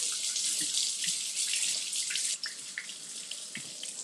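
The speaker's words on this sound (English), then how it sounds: "I'm going to wash this tomato really quick." Kitchen tap water runs steadily over a tomato being washed, a close hissing stream that changes and splashes unevenly as the tomato moves under it.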